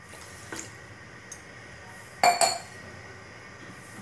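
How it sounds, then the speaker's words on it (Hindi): Water is poured into a pan holding sugar, with light clinks near the start and a brief louder splash and clatter in the middle, all against a quiet kitchen background. "एक पैन में शुगर और पानी ऐड कर देती हूँ।"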